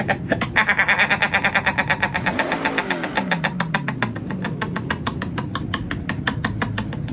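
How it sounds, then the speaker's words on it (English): A Toyota Chaser Turbo Rally with a 3-liter turbocharged inline-6 in Forza Horizon revs hard and close, its pulsing exhaust note rising then dropping into a rapid, throbbing idle-like chatter, alone without talk. "I believe that is from the Toyota Chaser Turbo Rally. 3-liter inline-6 with turbo."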